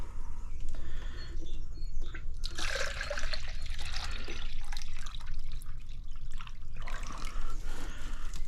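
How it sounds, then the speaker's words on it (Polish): Two litres of water poured from a watering can to make a sugar mixture for soaking tomato seedlings: a steady, close splashing gush that swells, eases off, then returns near the end. "I zacznę od wlania 2 litrów wody. Tu mam wodę w konewce."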